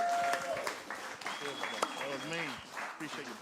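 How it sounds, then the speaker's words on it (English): An audience at a hip hop summit in Christchurch applauds with scattered clapping and cheers, while voices talk over the crowd noise and some whistling rises through it. "please give them a massive round of applause"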